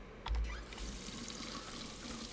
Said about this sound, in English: Let's go fill up our water, I guess.